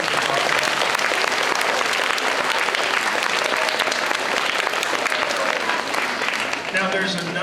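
Applause from an elementary school spirit assembly crowd honoring kindergarten through third grade students, a loud continuous wash of clapping that carries on for several seconds, with a voice emerging near the end.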